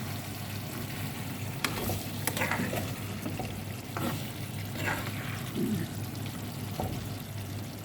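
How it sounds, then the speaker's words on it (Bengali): Chicken sautéing in hand-ground spice paste for a chicken curry gives a soft, continuous sizzle close by, broken by occasional scrapes and clinks as it is stirred, with no one speaking. "আর একটু কষানো হোক।"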